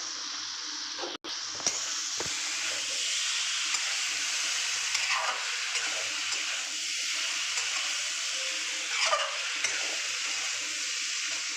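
Soybean curry masala with potatoes being stir-fried in a pan, a steady close sizzle with scraping stirs and occasional louder clanks of the spoon, no voices.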